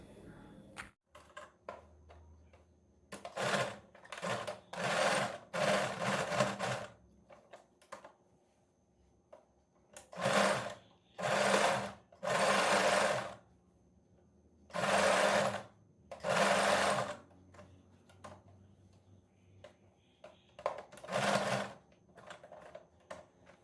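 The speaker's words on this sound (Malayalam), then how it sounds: "എന്നിട്ട് നമുക്ക് ചുറ്റുമൊന്ന് അടിച്ചു കൊടുക്കാം" A sewing machine stitches around the neck design of a nighty in several loud, fast bursts of a few seconds each, with short quiet pauses between runs.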